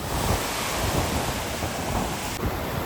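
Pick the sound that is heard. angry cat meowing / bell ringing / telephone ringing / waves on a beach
waves on a beach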